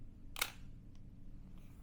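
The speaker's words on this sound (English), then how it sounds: "When I press this button, you will see that mirror flip up for 1/1000th of a second." A film SLR camera fires its shutter at 1/1000 second, giving one sharp, close mechanical clack from the mirror flipping up and back, followed by faint softer clicks in a quiet room.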